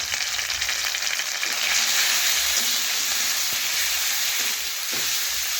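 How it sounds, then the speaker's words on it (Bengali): A fish head coated in turmeric and chili powder frying in a pan gives a continuous loud hiss, with a few scraping stirs and light taps cutting through. "ভালোভাবে নাড়াচাড়া করে মিশিয়ে নেব হলুদ ও লঙ্কা গুঁড়ো।"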